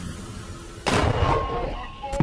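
A rocket strike from Hamas fire in news footage: quiet background gives way to a sudden loud blast at about 0.9 s, followed by a sustained roaring rumble and a sharp pop near the end.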